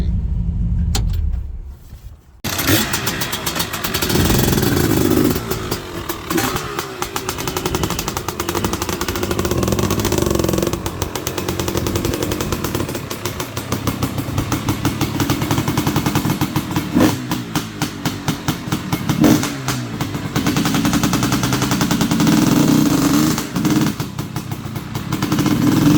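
A 1974 Ford 1-ton truck with a 283 engine runs steadily and loudly, a close, continuous rumble after a brief quiet start, with occasional voices faintly underneath.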